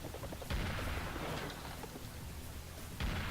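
Rocket launcher blasts in the shooter Serious Sam, fired at a crowd of skeletons: two heavy booming launches about two and a half seconds apart over a noisy, rumbling battle bed.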